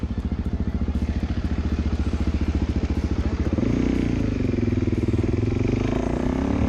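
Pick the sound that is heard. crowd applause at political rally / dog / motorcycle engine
motorcycle engine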